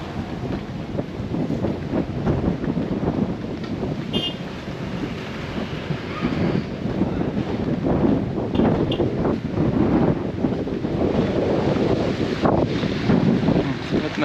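Strong, cold wind at People's Park in the Sky in Tagaytay blasts the microphone in a continuous, surging rumble, with occasional voices faintly underneath.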